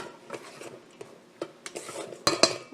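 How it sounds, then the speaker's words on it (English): A spoon stirs mock risotto in a cooking pot, making scraping, clinking knocks that come in short, irregular bursts, close by and fairly quiet, with a sharper cluster of clanks near the end. "Let's stir it up and we'll see what it looks like."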